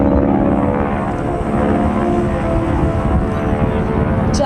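North American T-6 Texan propeller airplane flying aerobatic maneuvers, a loud, continuous, droning engine and propeller roar close by, steady throughout.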